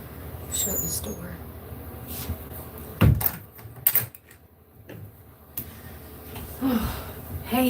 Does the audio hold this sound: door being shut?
yes